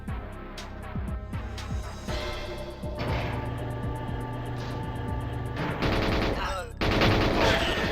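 Rapid gunfire in an N64 shooter, with rhythmic bursts of shots over game music, then denser volleys and a louder stretch near the end.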